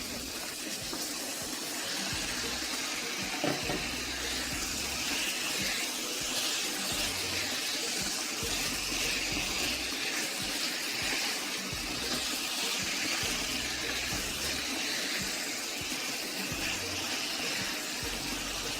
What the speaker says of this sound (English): We will stir this now.